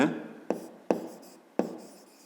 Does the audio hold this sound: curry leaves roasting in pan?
no